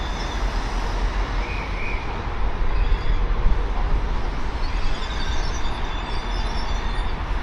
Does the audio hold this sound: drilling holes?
no